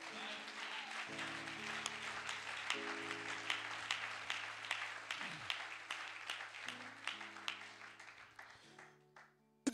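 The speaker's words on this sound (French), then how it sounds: "On peut acclamer le Seigneur." A church congregation applauds the Lord with steady, dense clapping that fades over about ten seconds, sustained keyboard notes underneath and a voice faintly present.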